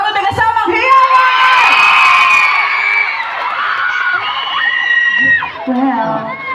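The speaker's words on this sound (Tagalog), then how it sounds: "magpalakpakan na may kasamang hiyawan!" A night-time public event crowd cheering and shouting loudly, whoops and high screams dominating with clapping buried underneath, mixed with shouted voices.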